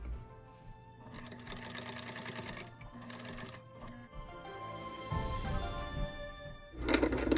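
A sewing machine stitches fabric for a wallet in loud, steady bursts of whirring, pausing between runs and starting again near the end, close by with no talk.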